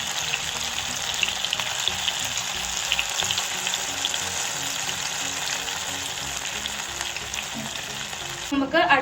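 Afghani chicken pieces fry in a pan with a steady, close sizzle and crackle that runs throughout, ending in a brief louder burst of spitting.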